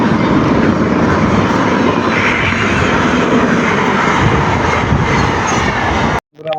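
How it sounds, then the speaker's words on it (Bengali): A Sealdah–Ranaghat local train departs Shyamnagar station with a loud, continuous rumble and roar that holds steady before cutting off abruptly near the end. "আমাদের ট্রেন এখন ছাড়ছে শ্যামনগর থেকে।"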